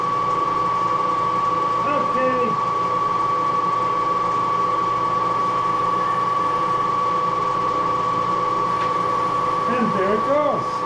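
A Moore jig boring machine running on its Reeves variable speed drive gives a steady mechanical hum with a strong constant tone. Faint clicks and knocks of operation are scattered over the drone, with no talk heard.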